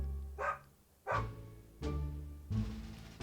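A person's voice imitates a dog barking while playing Prison Escape, giving four separate woofs spaced about two-thirds of a second apart, close and moderately loud, with quiet gaps between them.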